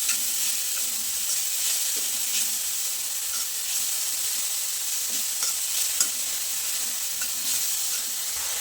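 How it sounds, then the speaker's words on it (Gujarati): Grated carrot and cabbage being stirred in a pan for momo filling, giving a steady close sizzle with soft scraping strokes throughout and a few small clicks of the spoon. "હવે આપણે છીણીને રાખેલું ગાજર અને કોબીજને ઉમેરી દેવાનું છે। હવે મિક્સ કરી લઈએ એકવાર।"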